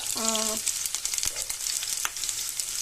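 Onion, garlic and ginger frying in oil in a pan, a steady bright sizzle running throughout with a brief harmonic beep near the start and a couple of sharp utensil clicks.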